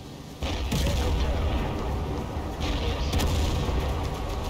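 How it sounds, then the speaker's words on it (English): Airstrike explosions in a video game siege battle with armored battalions: after a brief quiet start, a heavy, sustained rumbling barrage of booms rolls on continuously, with a fresh surge of blasts near the end. "at least we can count on my airstrikes, right?"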